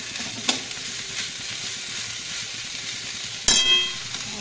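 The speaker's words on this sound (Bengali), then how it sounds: "কাঁচা টমেটো পেঁয়াজ টিয়াজ দিয়ে আলু দিয়ে ভোলা মাছের ঝাল ভাজা হচ্ছে" Bhola fish curry with raw tomato, onion and potato frying in a pan, a steady close sizzle broken by a couple of sharp stirring clanks.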